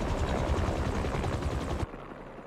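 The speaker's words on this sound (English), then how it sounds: "helicopter's blades." Helicopter blades in the video game Spider-Man 2 beat out a loud, dense, rhythmic chopping roar that holds steady, then cuts off abruptly, leaving a quieter low hum.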